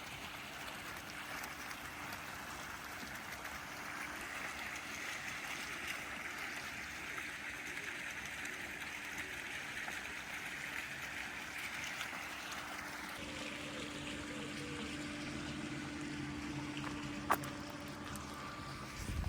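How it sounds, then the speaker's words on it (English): Steady, gentle rushing of flowing stream water, continuous and even throughout, with a faint click near the end. "You can come out and chill, listen to the water"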